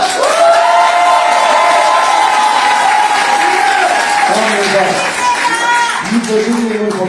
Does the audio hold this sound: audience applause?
yes